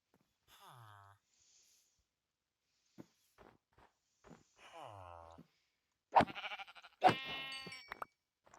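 Sheep in the video game Minecraft give two separate bleats, with a few soft clicks and footsteps between them, then a voice speaks loudly near the end.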